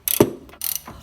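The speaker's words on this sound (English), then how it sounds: "We can remove the top caliper bolt," A ratchet wrench loosens a 21mm brake caliper bolt on an Audi A4 B7, giving two short rapid bursts of clicking pawl, close and loud, separated by a brief pause.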